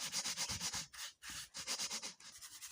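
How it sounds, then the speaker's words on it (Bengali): Homemade potato cornflour rubbed by hand through a sieve gives a steady, close rhythmic scratchy sanding, repeated strokes with brief pauses, no voices. "এই গামলার কর্নফ্লাওয়ারটা এই ছাকনির মধ্যে ঢেলে দেব এবারে খুব ভালোভাবে চেলে নিতে হবে হাত দিয়ে"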